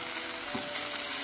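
Fried chicken drops into sizzling biryani masala in a pan, a steady close hiss of frying with a soft stirring bump partway through, fairly quiet and without talk.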